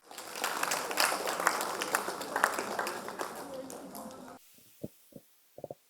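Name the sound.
audience clapping at a festival session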